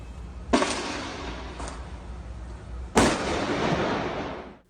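Two sharp gunshots ring out inside a house in Curitiba, fired by a 74-year-old man, each a sudden loud crack followed by a long echoing rumble, the second about two and a half seconds after the first.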